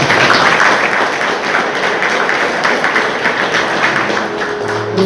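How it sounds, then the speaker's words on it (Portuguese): A church congregation applauds loudly and steadily at an evening worship service, a dense wash of claps lasting the whole stretch with a faint tone creeping in near the end. "eu te convido a aplaudir bem forte no nome do Senhor"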